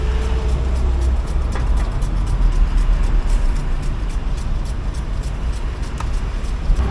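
Used car driving with a noise from the front left wheel hub, the brake pad rubbing: a loud continuous road and tire rumble with faint periodic ticking, no talk.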